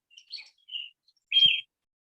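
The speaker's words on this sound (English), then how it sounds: "heard the birds chirping and saw them singing" Birds chirp and sing in a tree, a few short high tweets followed by a louder trilling call, heard alone and fairly close in a quiet setting.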